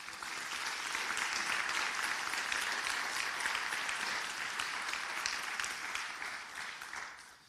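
Audience applause for Richmond Mayor Stoney's farewell address is a dense, steady clapping from a large room that holds evenly for several seconds before tapering off at the end.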